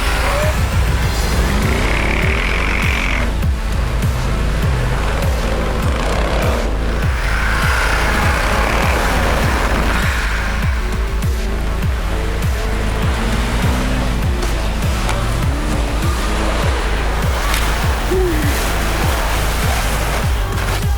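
A Lada Niva with engine roaring as it churns off-road in a contest against a Range Rover, a loud, continuous drone with surging revs, rushing and splashing noise, and scattered voices mixed in.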